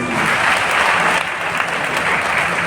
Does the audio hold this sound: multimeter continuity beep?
no